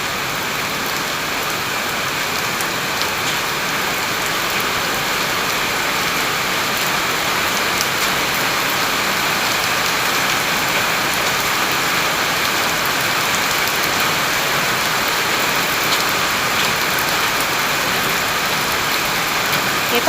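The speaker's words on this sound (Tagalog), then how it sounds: "ang ulan" Heavy rain pours down in a steady, dense roar, constant and close, with a faint low hum of an engine beneath it.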